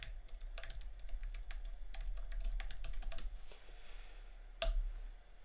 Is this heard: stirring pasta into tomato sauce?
no